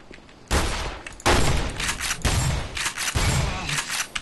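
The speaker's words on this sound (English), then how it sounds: "I'm firing 2 shots at a time" Gunfire in the game Black Mesa, two shots fired at a time: loud, close blasts in separate bursts roughly every second, each trailing into a brief echo.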